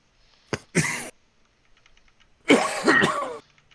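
Two close, loud coughing bursts, the first short and the second longer and rougher, from a player during a tabletop role-playing game session, with quiet gaps between and no talk.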